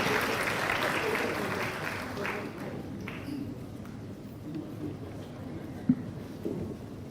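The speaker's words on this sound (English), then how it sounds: "another round of applause for His Excellency Tun Mahathir, Prime Minister of Malaysia" Audience applause for Malaysian Prime Minister Tun Mahathir at an open dialogue at the Royal University of Phnom Penh, a sustained moderate wash of clapping from a large hall crowd that gradually thins, with faint voices.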